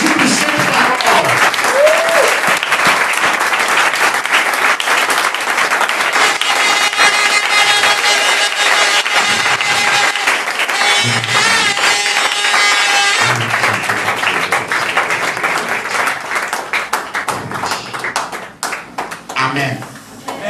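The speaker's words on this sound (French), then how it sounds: "Acclamons Jésus pour cette parole" Church congregation applauding and clapping at length, a dense, loud wash of hands with cheering voices mixed in, tapering slightly toward the end.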